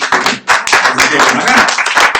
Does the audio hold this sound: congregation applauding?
yes